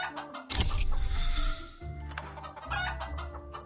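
Chickens cluck in a digital version of the board game The Castles of Burgundy, a short burst of game-sound fowl calls, fairly close and clear, with no talk over it.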